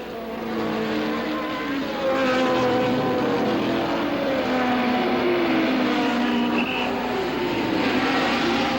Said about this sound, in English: Sullivan rounded Moss Corner, surrounded by lap cars, with Holbert just behind